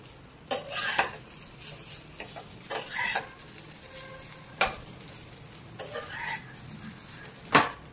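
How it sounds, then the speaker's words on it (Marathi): Jeera rice with fresh coriander being stirred and tossed in a pan, a light sizzle under repeated sharp scrapes and clinks of a spoon against the metal, spaced irregularly and close by. "आता हा जिरा राईस आपण परतून घेऊयात।"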